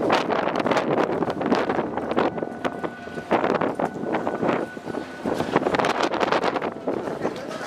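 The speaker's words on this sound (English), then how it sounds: "Walk into the wind." Strong gusts of outdoor wind buffet the microphone in heavy, uneven rumbling bursts that rise and fall throughout.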